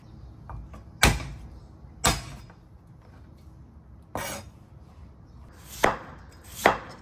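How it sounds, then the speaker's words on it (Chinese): Knife chopping carrots into small dice on a cutting board in a home kitchen, five or six crisp, irregular thuds spaced about a second apart against a quiet background. "切点配菜。再把红萝卜切成小丁。"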